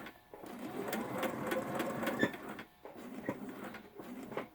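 A sewing machine runs stitching a seam in a sewing class, a steady rapid whirring patter in short bursts with brief pauses between runs, fairly close.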